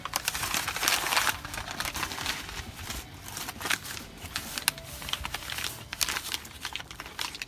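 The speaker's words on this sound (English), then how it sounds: "Cut it open by hand, just the aluminum right here." Crinkling aluminum foil wrapped around a deep pit turkey is torn open by hand, giving a steady close rustle and crackle with sharper tearing bursts throughout, no talking.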